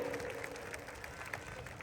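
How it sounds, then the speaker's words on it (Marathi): A crowd claps for Mahesh Dada Landge at an outdoor wrestling event in Moshi, giving a steady, fairly distant patter of applause under a faint, reverberant background. "टाळ्या करा जरा दादांसाठी"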